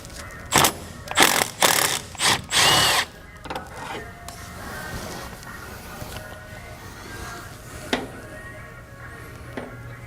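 A ratchet works loose a 13mm bolt on the intermediate steering shaft of a Cadillac. It makes four loud, rapid rattling bursts close by in the first three seconds, then fades to a low background hum with a couple of faint clicks.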